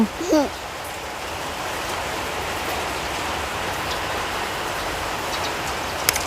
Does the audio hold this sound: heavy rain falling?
yes